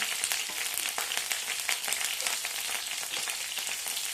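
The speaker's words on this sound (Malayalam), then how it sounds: "കറിവേപ്പില ഒന്നിച്ചിട്ട് നമുക്കൊന്ന് വഴറ്റിയെടുക്കാം" Crushed garlic, green chilli and curry leaves sauté in hot oil with fenugreek seeds, giving a steady, close crackling sizzle with dense popping throughout and no voices.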